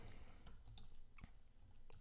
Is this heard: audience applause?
no